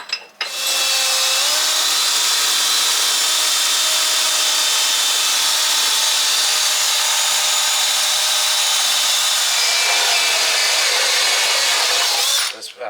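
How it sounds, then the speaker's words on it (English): A power drill bores steadily through a spare tire mount for a Can-Am X3 side-by-side, a loud continuous whine held for about twelve seconds with a brief start and stop at either end. "Now I'm going to drill it."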